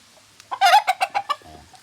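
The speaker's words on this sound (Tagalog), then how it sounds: "Papakain tayo ng mga manok." Backyard chickens, including Black Australorps, at morning feeding time give a short burst of close, loud clucks and squawks in quick succession, then a low, fading cluck.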